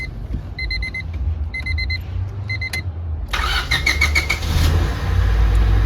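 A Honda Civic engine idles under a few repeated electronic chime beeps, then revs up to a higher-pitched, louder roar that keeps rumbling close by.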